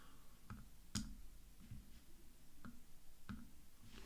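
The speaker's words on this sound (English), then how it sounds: "Let me just turn off the clicking of my mouse so you don't have to hear that" Computer mouse clicks, six sharp separate clicks spaced irregularly over a few seconds, close and fairly quiet, with no talking.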